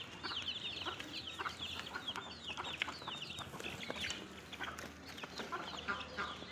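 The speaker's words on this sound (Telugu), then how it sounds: "ఇవి కడక్నాథ్ కోడి పిల్లలు." Kadaknath chicken chicks cheep and cluck continuously, a dense chorus of high peeping calls close by with no talking.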